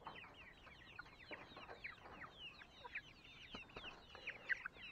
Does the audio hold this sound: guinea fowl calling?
yes